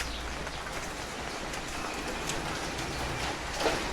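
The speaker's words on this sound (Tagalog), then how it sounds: "Umuulan." Steady rain falls at a beach in La Union before dawn, a dense, even hiss of drops on surfaces that holds constant and moderately loud, with one small tap near the end and no voices.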